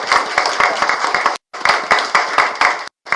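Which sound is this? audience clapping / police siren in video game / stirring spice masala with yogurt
audience clapping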